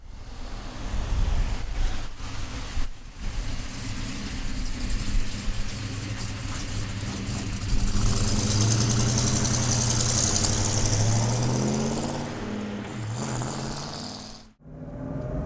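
A 1969 Chevrolet Chevelle with a big-block V8 and four-speed idles steadily nearby, a deep rumbling drone that swells in the middle and then briefly drops away near the end.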